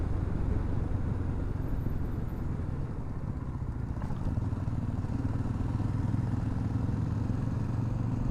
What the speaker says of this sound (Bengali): বেশ সুন্দর ছায়ার মধ্যে দিয়ে বাইক চালিয়ে এগিয়ে যাচ্ছি।